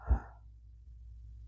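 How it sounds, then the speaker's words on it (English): A deep breath drawn in during a shoulder and upper-back stretch, heard as a single soft, airy inhale near the start that fades into quiet room tone. "And don't forget to breathe. Nice deep breaths in"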